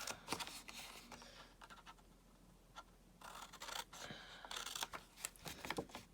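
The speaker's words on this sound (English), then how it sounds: "So I'm going to bring in my scissors and get those" Scissors snip through paper card stock to trim the edges of a Valentine treat box for two, in short close bursts of cuts separated by brief pauses, with no talking.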